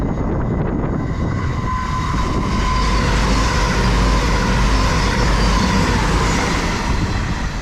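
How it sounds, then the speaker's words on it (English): Avanti West Coast service bound for London Euston from Holyhead roars through a North Wales station without stopping, a loud, steady rush of wheels and rail noise that fills the whole stretch with no speech. "also passing through is an Avanti West Coast service to London Euston from Holyhead"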